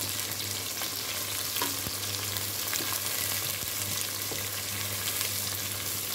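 Onion frying in a pan until deeply browned, a dense, steady hiss of sizzling oil with a faint low hum underneath and a few small clicks, close and continuous, no one talking.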